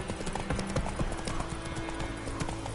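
Roach the horse gallops in The Witcher 3, rapid, steady hoofbeats clopping close and loud over an ambient game background.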